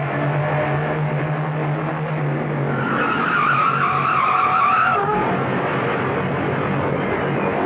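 In a radio drama sound effect, a car swerves to avoid a truck and skids off the road. Tires squeal in one long, loud, continuous screech that peaks in the middle and then trails off.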